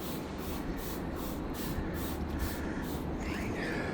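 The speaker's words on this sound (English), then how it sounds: "So here we go, a little more spray." Vamoose odor eliminator sprays in repeated pulsing hisses onto a car's leather seat, close and steady, with no talking.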